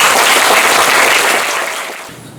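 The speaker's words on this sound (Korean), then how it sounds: "큰 박수 부탁드리겠습니다." Loud applause from a university academic conference audience, welcoming the president to the podium, a dense burst of many hands clapping that tapers off after about two seconds.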